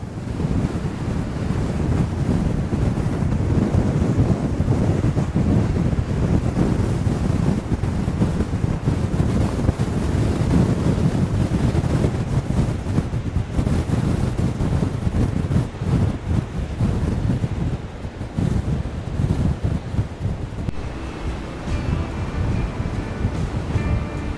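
Loud, continuous roar of sea waves crashing and surging against rocky cliffs in Shetland, water turning white as it swells, heavy wind buffeting throughout.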